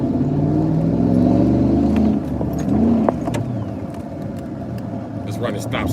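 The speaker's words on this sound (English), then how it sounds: "The car running" A Chevy car engine idling and running, a steady low rumble with some revving swells, heard close up while someone talks over it.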